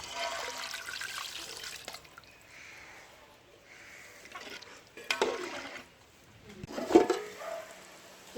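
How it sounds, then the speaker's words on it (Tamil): Water is poured into fish biryani gravy in a village-style cooking pot. The splashes and gushes come in uneven bursts, with quieter trickling between them and a few louder pours near the end. "இப்போ தேவையான அளவுக்கு நம்ம தண்ணி சேர்த்துக்கலாம்."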